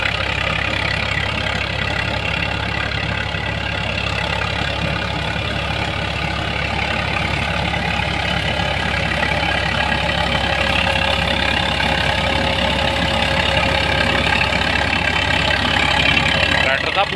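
A tractor engine runs steadily while powering straw-making from wheat stalks in a village, a continuous mid-to-low engine drone that holds an even level throughout, with voices faintly present.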